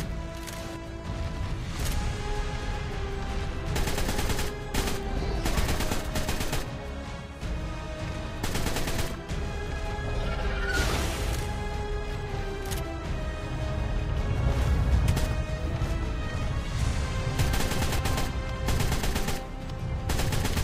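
Heavy, continuous gunfire from a boss fight in the survival game Ark, with repeated rapid bursts and loud blasts layered over a constant rumble of battle, sustained and close for the whole stretch.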